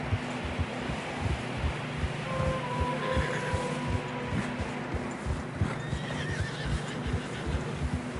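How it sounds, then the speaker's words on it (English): Horses plodding through fresh snow with a steady muffled hoof rhythm, one neighing briefly midway, breathing and tack noise close by, moderate level. "Horses are struggling."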